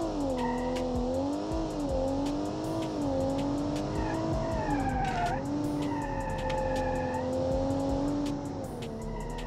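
Automatic carbureted SUV lapping a track in the BeamNG driving game, with a continuous engine drone rising and falling through gear changes, plus bursts of tire squeal during cornering, loud and steady throughout.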